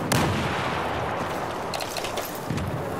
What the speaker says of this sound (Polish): Granat poleciał.